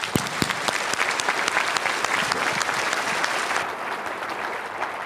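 A room full of people gives a participant a big round of applause, with close, crisp individual claps over a steady wash of clapping that softens slightly near the end.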